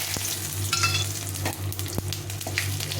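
Dry red chillies, cumin seeds and bay leaves sizzle in hot oil in a kadai, a steady close crackle with a few sharp pops and a low hum running underneath.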